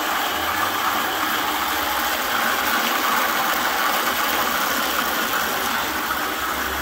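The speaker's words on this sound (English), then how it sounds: "See the blades are going there." Brushless DC motor from a DIY kit fitted to a McLane reel mower, spinning the cutting blades with a steady broadband whirring hum that stays loud and even throughout, with no voices.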